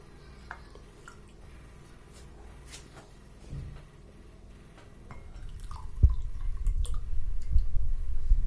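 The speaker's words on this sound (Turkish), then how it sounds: "Sütümüzü de üstüne koyuyoruz." Milk is poured for homemade yogurt, starting as scattered drips and splashes and then swelling into a steady, close gurgling pour into a container.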